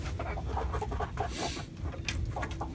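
Chickens in a coop on a farm on a snowy day make soft, repeated clucks and short calls at close range, over a constant low rumble of background noise.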